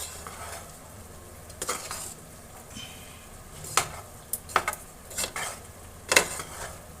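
Spices are being stirred into a cauliflower biryani in a cooking pot. Scraping and clinking of a utensil against the pot come in irregular bursts, with a few sharper metallic ticks, over a low background hiss and no speech.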